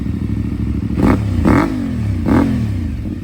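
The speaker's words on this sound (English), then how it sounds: "listen to that Yoshimura exhaust, son" A CFMOTO Ibex motorcycle with a Yoshimura aftermarket exhaust idles with a deep burble, then is blipped three times in quick succession, each rev snapping up loud and crackling before dropping back.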